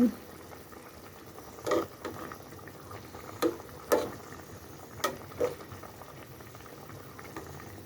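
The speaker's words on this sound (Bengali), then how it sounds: "আলুটা এখনো পুরোপুরি সিদ্ধ হয়নি, তো একটু সিদ্ধ হবে।" Potatoes boiling in a pot of goat meat curry, with steady low bubbling and several louder plops and pops breaking through at intervals, close up.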